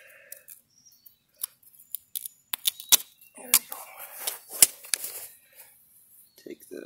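Pliers snipping electric fence wire outdoors at a bee yard, giving a few sharp, close metallic clicks and snaps spread over several seconds, with faint birdsong in the background.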